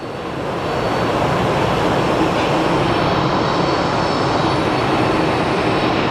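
An airplane rolls down the runway at Phoenix Sky Harbor Airport, its engines swelling into a loud, steady roar that holds for several seconds without any talk.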